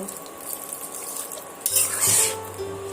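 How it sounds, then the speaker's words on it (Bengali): A spatula stirs a soybean, egg and potato curry in a pot, giving soft scraping and a brief louder clatter with a wet bubbling burst midway, close by and without speech. "এখানে আমি খুন্তি দিয়ে নেড়ে চেড়ে নিলাম"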